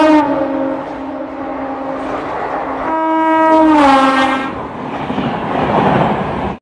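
A MEMU passenger train at Santragachi station sounds a long, loud horn blast, then a second rising toot, over the steady rumble of the rail cars.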